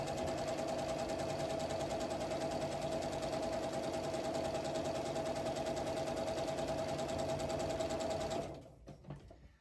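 A sewing machine runs steadily while stitching quilt nine-patch blocks, a close, continuous motor whir that holds unbroken for about eight seconds, then stops, leaving a few faint handling clicks.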